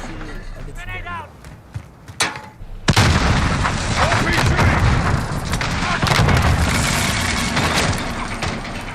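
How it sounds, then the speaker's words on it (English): Call of Duty match with grenade blasts and gunfire: a few scattered shots and thumps give way to a loud explosion, then sustained close gunfire and booms, with voices heard only faintly. "Grenade out."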